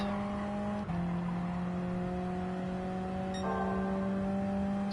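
A 1972 Alpine A110 in Gran Turismo 7 holds a steady engine drone at the Alsace circuit, then shifts and pulls harder, its pitch stepping up as it accelerates, loud and close with no talking.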